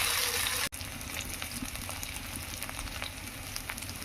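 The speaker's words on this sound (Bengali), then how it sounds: "সামান্য একটু তেল দিয়ে আলুগুলো ভেজে নেব।" Potatoes fry in a little oil with a steady, close hiss and crackle that runs throughout after a brief cut near the start, no voices present.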